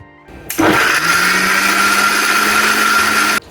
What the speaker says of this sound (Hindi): अब हम इसे दोबारा से पीस लेते हैं, क्योंकि हमें काजुओं का बिल्कुल फाइन पेस्ट चाहिए।